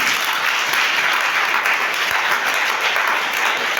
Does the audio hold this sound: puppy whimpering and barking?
no